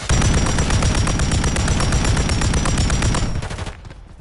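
SMG fire in an online shooter game, a loud continuous rapid burst of automatic shots lasting several seconds before cutting off, heard close with no talking.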